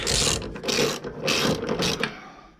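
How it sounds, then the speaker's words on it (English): A hand ratchet tightens the upper suspension nuts and bolts on a BMW F20/F30, close and loud, in three or four quick bursts of rapid clicking separated by short pauses. "we tighten the upper nuts and bolts"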